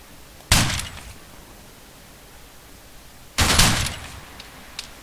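Two loud, sharp rifle reports from AI soldiers in Arma 3, about three seconds apart, each trailing into a long rolling echo over a quiet outdoor hiss, with fainter distant cracks near the end.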